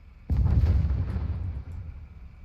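An artillery strike in War Thunder lands as one heavy, booming explosion, a sudden deep blast that rumbles loudly and then slowly fades, with no voices.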